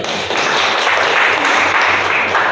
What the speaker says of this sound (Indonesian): kita beri aplaus dulu, silakan